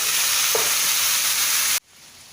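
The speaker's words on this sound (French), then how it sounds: "pendant que mes poivrons sont en train de cuire" Sliced peppers and mushrooms fry in a hot pan with a loud, dense, continuous sizzle that holds steady and then cuts off abruptly near the end.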